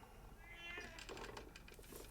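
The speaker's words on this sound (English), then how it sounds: "Random cat meowing in here." A cat meows faintly inside the room during a Mystery Case Files Ravenhearst hidden-object game, a few soft mews over a humming background, with no talk.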